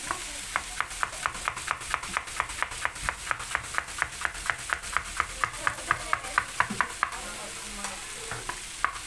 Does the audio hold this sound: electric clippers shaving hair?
no